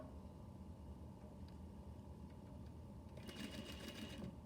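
A Juki industrial sewing machine runs quietly under a low hum, then breaks into a brief fast rattle of stitching near the end.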